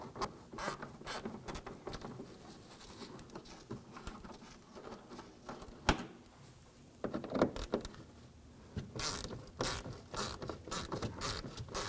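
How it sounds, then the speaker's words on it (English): Stubby 1/4-inch ratchet with a socket loosening screws on a 2015-2020 Ford F-150 during high beam bulb replacement, giving repeated quick clicking bursts with pauses, close up and fairly quiet, with no talking. "I'm going to use my socket and my stubby 1/4-inch ratchet to loosen and remove these."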